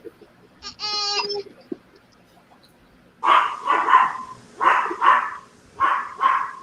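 Dogs barking in a series of six sharp, loud barks in close pairs, following a brief high bleating cry early on, in a quiet home setting.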